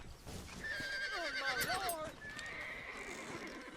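A horse in Red Dead Redemption whinnies loudly with a wavering, descending call lasting about two seconds, followed by a softer second neigh, with faint hoof clops in the background.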